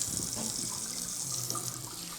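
Water streams steadily from the tap of a salon hair-washing basin, a constant bright splashing rush with faint gurgles as it fills a cupped hand, close up and uninterrupted.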